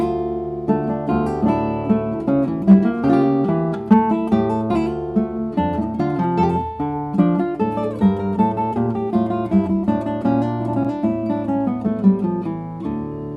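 A Bach piece on classical guitar, played plainly without articulation, flows as a steady stream of close, clear plucked notes over a moving bass line, alone with no talking.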